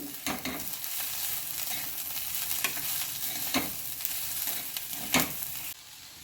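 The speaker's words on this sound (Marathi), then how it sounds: "हे देखील आपल्याला यामध्ये एक ते दोन मिनिट छान परतून घ्यायचं आहे" A ground paste of peanut, green chilli and garlic sautés with wild monsoon greens in a pan, a continuous close sizzle broken by several sharp spatula scrapes and knocks at irregular intervals; no voices.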